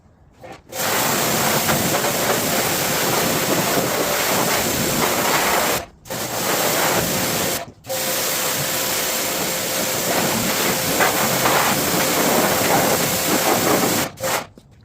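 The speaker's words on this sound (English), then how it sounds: "I am actually about to power wash it." A loud, close pressure washer sprays a Sterling 10.5 axle in long continuous hissing bursts, stopping briefly three times before starting again.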